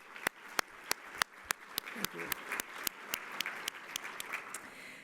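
Sparse audience applause at an Economic Club of Indiana luncheon, thanking One America Financial: a few loud, separate claps ring out in a loose, steady rhythm over faint room murmur.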